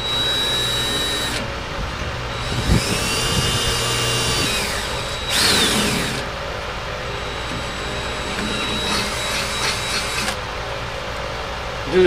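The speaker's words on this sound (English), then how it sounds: "I'm gonna drill a pilot hole first, then I'll use a quarter inch drill bit" A power drill whirs in several short bursts, drilling pilot holes in a trailer for LED lights, steady and close, with brief pauses between runs and no talking.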